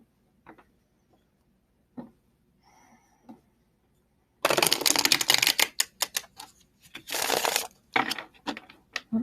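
Soft scattered taps at first, then a burst of rapid, crisp riffling and flicking of cards, repeated in quick bursts up close.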